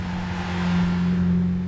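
Race car engine from the Gran Turismo 5 video game, a roadster in a four-hour endurance race, holding a steady low droning hum with a faint rise in revs, close and continuous, no talking over it.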